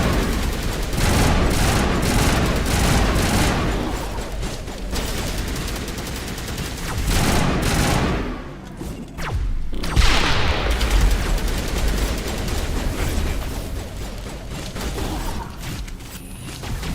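Sustained gunfire in the video game Mass Effect, dense rapid bursts and crackling shots pouring almost without pause, loud and close, with a brief lull midway before the firing resumes.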